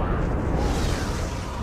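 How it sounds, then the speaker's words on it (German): About two million litres of rocket fuel explode in a sustained, deep roaring blast that fills the whole stretch, loud and close, with a dense rumbling low end and no pause. "Rund 2 Millionen Liter Treibstoff explodieren."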